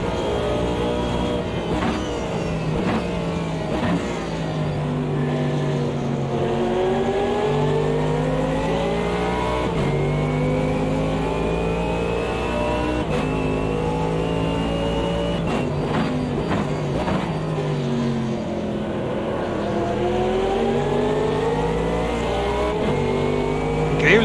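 Mercedes AMG GT3 race car engine in Automobilista 2 at Mount Panorama, a loud continuous engine note rising through the gears with sharp shifts and falling pitch on braking, heard close and alone.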